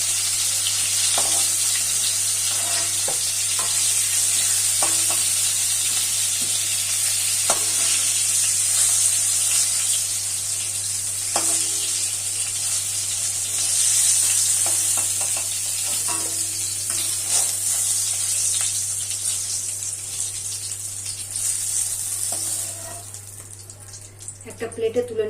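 Pointed gourd (potol) sizzles and crackles steadily in hot oil in a pan, a continuous close frying hiss with intermittent clinks and scraping as pieces are stirred and lifted, with a low steady hum underneath, tapering near the end.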